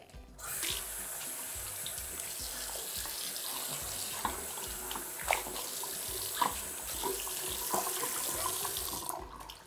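Water squeezed from a wet cleaning cloth over a bathroom sink faucet, a steady close splash and trickle running for several seconds with small drips, no voice.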